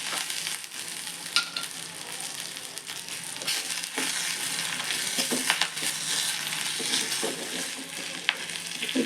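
Crushed cumin, ground pepper and asafoetida roast in a hot pan for an idli recipe, giving a steady dense sizzle with scattered crackles and pops, close and fairly loud, with no talking.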